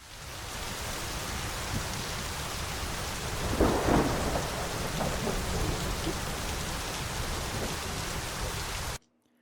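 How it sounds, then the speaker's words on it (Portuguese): Rain sound effect with thunder: dense, hissing rainfall fills the whole stretch, a low thunder rumble swells in the middle, and everything cuts off abruptly at the end. "E eu vou utilizar essa opção aqui que tem sons de trovão também."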